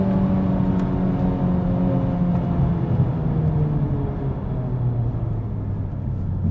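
A Honda Civic Type R in sport mode pulling away, its engine note rising and falling in a steady hum heard from inside the cabin, no talking.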